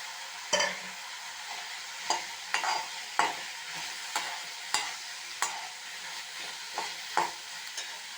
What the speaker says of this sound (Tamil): இதோட இந்த தக்காளி வெங்காயம் வதங்கினதும் கோவக்காயும் சேர்த்துடலாம்